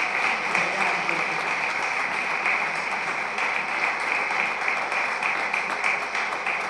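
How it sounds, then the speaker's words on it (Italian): Applause for the Pope rises from a congregation at a holy Mass in San Severino Lucano, a steady dense wash of clapping that carries on without a break, with a few voices mixed in. "L'applauso al Papa lo dovete fare."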